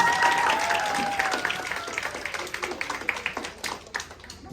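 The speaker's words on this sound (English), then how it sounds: "Give a warm applause for those two contestants, please" An audience applauds two contestants leaving a school quiz, clapping strongest at first and then thinning into scattered, distinct claps that fade toward the end.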